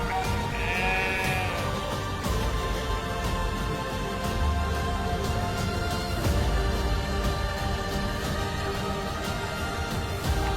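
A flock of sheep and goats driven by Gaddi herders in Himachal Pradesh's Chamba region bleats repeatedly, overlapping calls near and far over a constant outdoor background.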